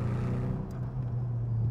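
Nissan 240SX S14 with a turbocharged KA24 engine running E85, idling with a steady low drone and rumble, close and continuous with no talk.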